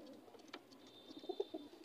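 A male pigeon in a cage coos softly, a few low, throaty murmurs near the end, faint and close, over quiet background noise.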